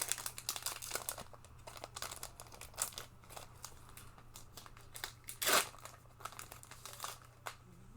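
Magic: The Gathering Adventures in Forgotten Realms set booster pack wrapper crinkling as it is opened, with soft scattered crackles and one louder tearing rustle midway, close and fairly quiet.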